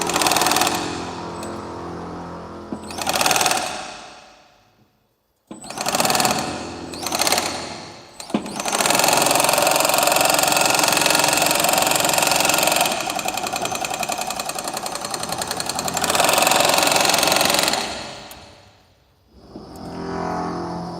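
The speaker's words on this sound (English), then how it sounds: "just now I've showed the operation of the second machine, which is a semi-automatic tape-bed machine for closing the edge of the mattress" A semi-automatic tape-edge machine closing the edge of a mattress runs in loud, close mechanical bursts, starting and stopping several times before one long sustained run.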